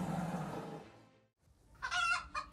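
Chickens cluck and squawk close by, a burst of agitated calls, a short pause, then a sharp, loud flurry of clucks near the end.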